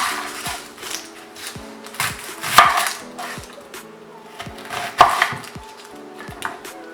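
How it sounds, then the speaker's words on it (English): A knife chops through an onion and an orange on a cutting board, giving a series of sharp, irregular thuds and slices close by, with quiet background music underneath. "we are just going to cut the ends off of this onion, cut it in half, and then cut our orange in half."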